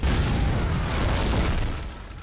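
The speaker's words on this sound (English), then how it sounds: "You could see the individual like lit piece of wood that land somewhere and then the explosions start in that place." Movie explosions in the film RRR, a loud dense roaring blast with rumbling debris that fills the whole moment and slowly eases off toward the end.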